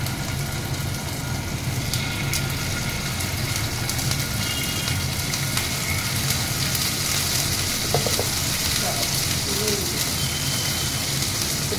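Ginger paste frying in a pan with fenugreek already in the oil gives a loud, continuous broad sizzle and hiss that holds steady throughout, close up with no talking.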